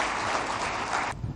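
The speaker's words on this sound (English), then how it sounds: "can we have a very warm round of applause for the young man" Audience applause at the India Today Conclave welcomes a speaker to the stage, a steady dense wash of clapping that cuts off abruptly near the end.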